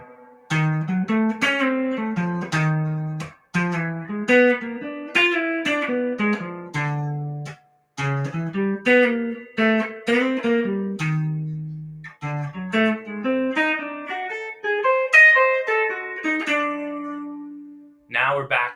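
A clean-toned guitar plays a continuous melodic country-jazz line of quick single notes, steady and close, ending on a held note followed by a brief strum.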